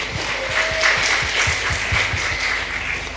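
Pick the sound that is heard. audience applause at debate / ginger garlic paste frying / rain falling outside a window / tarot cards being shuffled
audience applause at debate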